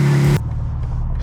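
A 2022 BMW M4 Competition engine just started, a loud close rev that cuts off sharply into a steady low idle rumble.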